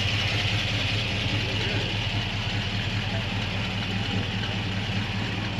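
Supercharged Mustang idling at a swap meet, a steady low engine rumble running through the whole stretch amid outdoor crowd noise and faint voices.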